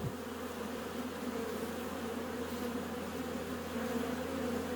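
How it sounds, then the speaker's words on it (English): Honey bees gathered at the entrance of a hive colony that began the season weak, giving a steady, dense buzzing hum that holds throughout, close and continuous with no talk. "look at all the bees that are just waiting to enter"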